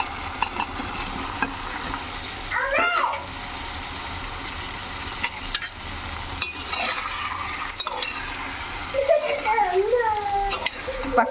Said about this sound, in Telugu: అన్నీ బాగా ఫ్రై అయిపోతున్నాయి కదా.